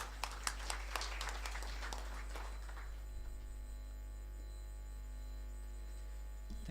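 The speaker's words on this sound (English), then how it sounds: "Give him a big round of applause." Audience applause greets a keynote speaker at a conference, a burst of clapping that thins out and stops after about three seconds, leaving a steady electrical hum.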